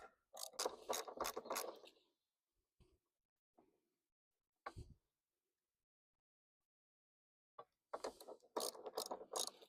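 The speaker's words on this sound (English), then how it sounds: "So remove this bolt on this side" Ratchet backing out a long roof rack bolt on a Toyota RAV4, giving close, loud bursts of rapid clicking, then quiet pauses with a few single clicks, then another clicking run.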